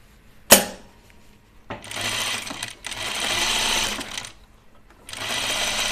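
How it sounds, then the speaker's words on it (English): Sewing machine stitching fabric, a sharp click followed by three bursts of continuous whirring stitching separated by short pauses, close and clear. "Sewing the filling to the overhang first."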